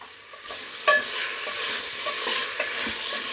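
Potatoes for pav bhaji are stirred and sautéed in a hot pan. A steady sizzle of frying runs under repeated scraping strokes of a spoon against the pan, close and clear with no voices.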